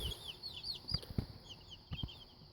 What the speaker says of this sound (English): That is a Buff Orpington. There's 6 of those in here also.